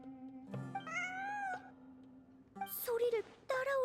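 A cat meows in Genshin Impact, giving two separate cries, one drawn out and one rising and falling, then a third short call, all fairly faint and set against quiet game ambience.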